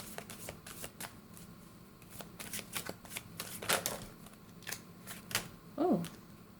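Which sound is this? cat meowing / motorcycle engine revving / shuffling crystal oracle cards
shuffling crystal oracle cards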